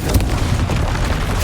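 A Confringo blasting spell explodes in the video game Hogwarts Legacy, a loud, dense, sustained roar of rumbling blast noise that fills the whole moment without a break.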